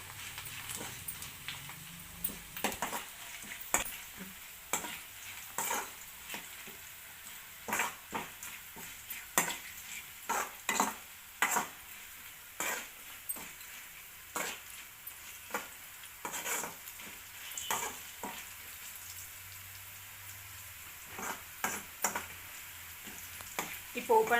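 Dals and green chillies crackle and sizzle as a tempering fries in hot oil over moderate heat, with a steady run of sharp pops and spatters close by, some louder bursts mixed among lighter ones.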